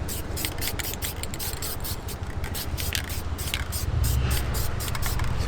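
An aerosol sprays light, gentle coats of dye onto a truck interior, a close hissing in short repeated bursts with brief gaps between passes.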